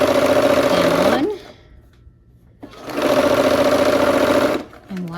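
Quilt block pieces for a Christmas tree block being stitched on a sewing machine: two loud, steady whirring runs separated by a brief pause, with a short restart at the very end.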